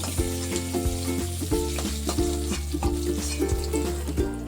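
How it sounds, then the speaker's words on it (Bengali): Small fish frying in hot oil in a pan give a dense, steady crackling sizzle, with rhythmic stirring or utensil knocks repeating throughout over a low background hum. "তেল গরম হয়ে গেছে মাছগুলো এবার আমি ভেজে নেব"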